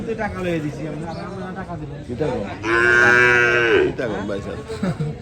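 Two heifer calves at a Bangladeshi cattle market low and bellow in drawn-out moos, one long loud call in the middle, close by with market voices around.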